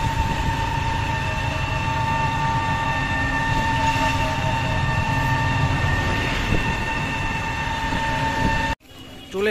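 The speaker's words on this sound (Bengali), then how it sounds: "শিলিগুড়ি জংশনে পৌঁছালাম, এখন ট্রেনের টিকিট কাটতে হবে" A train at Siliguri Junction railway station gives off a steady, loud mechanical rumble with sustained humming tones that runs nearly the whole time before dropping off briefly near the end.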